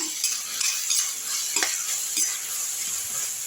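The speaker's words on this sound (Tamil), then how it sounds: "நல்லா பச்சை வாசனை போகிற அளவுக்கு நல்லாவே வதங்கட்டும்" Carrot thokku sautéing in hot oil in a pan, with a steady close sizzle and a few stirring scrapes of a spoon across the pan, alone without talk.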